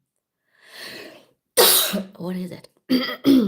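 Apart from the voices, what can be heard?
coughing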